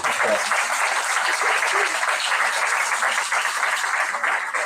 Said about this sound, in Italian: allargherei l'applauso che è stato fatto a Luca anche a tutta l'associazione Tradizioni Popolari